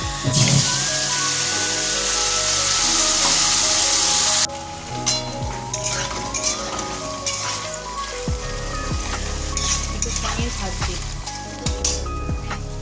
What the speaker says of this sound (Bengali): এখানে কড়াই তেল দিয়ে আর কালো জিরে দিয়ে দিয়েছি মাছের ঝালটা করবো বলে এবার এতে কাঁচা লঙ্কা টমেটো বাটা